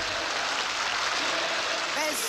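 Roaring applause from a large crowd at a party address, a dense steady wash of clapping throughout with no break.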